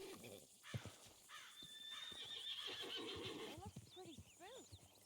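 An agitated horse neighs and whinnies repeatedly in Red Dead Redemption 2, with hoof clip-clops and game speech mixed in, close and fairly loud.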